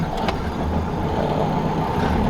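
A 1932 Ford Roadster with a four-cylinder engine rumbles low and steady from the cabin during a short stretch of driving, with no talk over it.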